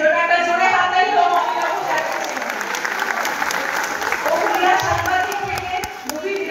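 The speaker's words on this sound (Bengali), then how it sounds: "আমারই পরিচালক এর জন্য একটা জোরে হাততালি হোক" A theatre audience gives a film director sustained, dense applause throughout, loud and even with a little cheering, while voices carry faintly underneath.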